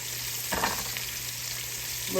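Thin pieces of chicken fry in a pan for a sandwich, a steady close sizzle and hiss filling the clip, with a brief stir or clatter early on and a soft knock at the end.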